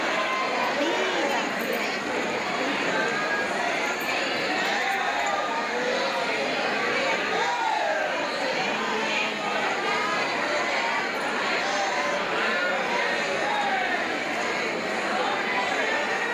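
A dense crowd of pilgrims at a temple, with many overlapping voices forming a continuous, even murmur of chatter with no pauses.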